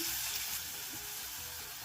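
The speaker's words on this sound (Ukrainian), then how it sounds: "Морку з цибулею смажимо 2-3 хвилини, смажимо овочі на середньому вогні" A steady, soft sizzle of carrots and onions frying in oil over medium heat, a continuous crackling hiss with no voices.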